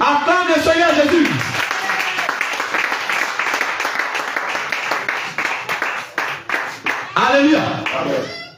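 A French-speaking church congregation bursts into sustained clapping and cheering, loud and dense, between stretches of a preacher's voice at the start and the end.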